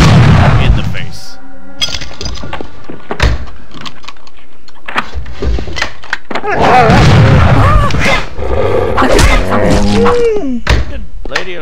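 Gunfire in the video game Nosferatu, with several sharp booming shots and heavy thuds scattered through a busy mix of game effects and voices.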